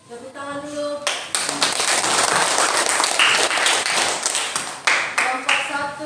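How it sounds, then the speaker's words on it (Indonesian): Classroom audience of student groups clapping together in a steady, dense burst of applause lasting several seconds, with brief voices and tonal sounds at the start and end. "Tepuk tangan dulu."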